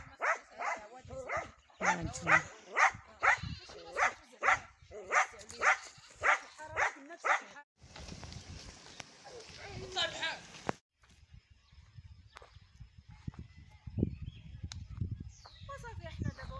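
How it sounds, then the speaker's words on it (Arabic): A dog barks in a rapid, regular series of sharp barks at moderate distance outdoors in the countryside, then falls quiet while someone speaks and birds chirp faintly. "هاد الكلب هذا من الصباح هو ينبح علينا"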